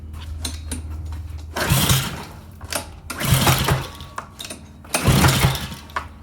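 A Honda 5.0 HP engine on a Karcher GC160 power washer being pull-started, three loud rasping bursts of cranking about every 1.7 seconds, close up, with light mechanical clatter between pulls.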